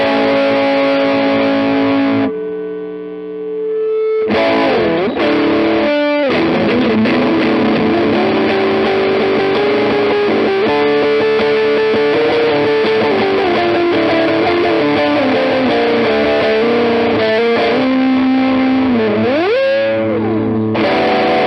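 A heavily modified Fender Blues Jr. tube amp, cranked with both channels of a Dualist pedal engaged, roars out distorted electric guitar: sustained chords and bending lead notes, loud and saturated, with a brief drop near the start.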